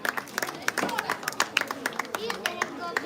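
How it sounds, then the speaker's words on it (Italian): Scattered, uneven clapping from a small crowd applauds young boxers at the end of a sparring round, with chatter and voices of people talking throughout. "Un applauso a questi bravissimi e giovani pugili"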